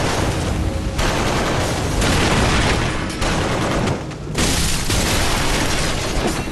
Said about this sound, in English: So there's a bunch of machine guns here.